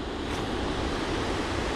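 Steady roar of sea waves on a busy beach where people are swimming, a continuous close wash of surf with some wind rumble and no voices.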